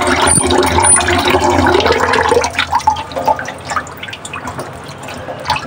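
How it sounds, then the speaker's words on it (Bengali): Fresh river fish being rinsed with water, a steady rush and splash of running water filling the first half, then softer intermittent drips and sloshes as it tapers off. "মাছগুলো আগে ধুয়ে নিয়ে ভালোভাবে"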